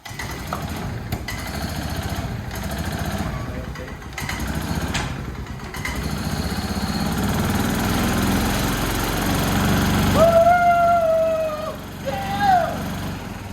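The engine of a 2021 third-generation Ford Raptor truck catches and runs, a continuous rough rumble that swells in the middle, then holds with a brief whining tone near the end, close and loud.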